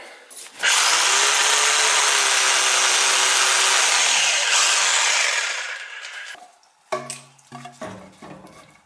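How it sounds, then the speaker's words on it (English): A power drill whines steadily for about five seconds, loud and close, drilling holes into wood, then winds down into a few scattered knocks and handling clatter. "I'm drilling a couple of holes here to hold this wood in."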